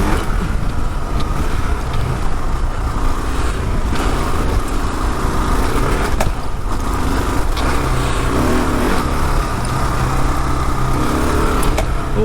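A 2022 Kawasaki KLR650 ABS motorcycle rides off-road with a continuous loud engine drone and rushing wind heard close up from the rider's position for about twelve seconds, steady throughout with no speech.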